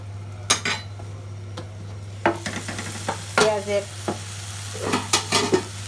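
Onion greens frying in a pan while being stirred, a low steady sizzle beneath sharp scattered clanks and scrapes of a metal utensil against the pan, close and fairly loud, with bursts of quicker scraping.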